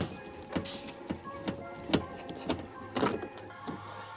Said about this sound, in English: So that's the handle coming out. That should slide out. There goes all the clips.